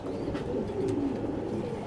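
Kaldam pigeons, large birds about a hand's length, coo softly and repeatedly at close range in a low, continuous murmur.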